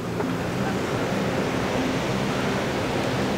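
Ocean surf against the rocks along Australia's Great Ocean Road, a continuous broadband roar of waves mixed with wind buffeting the microphone, steady and loud throughout.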